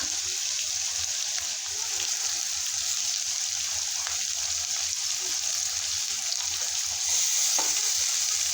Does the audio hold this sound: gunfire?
no